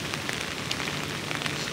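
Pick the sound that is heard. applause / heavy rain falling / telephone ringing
heavy rain falling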